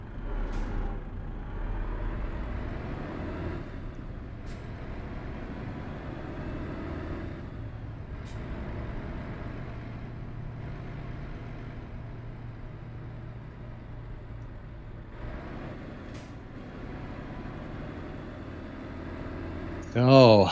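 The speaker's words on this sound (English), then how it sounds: "It's just revving because I need to hit my pedal" Heavy truck engine in Euro Truck Simulator 2, a steady low drone with throttle swells and occasional sharp hisses, held at moderate loudness throughout with a brief louder burst at the very end.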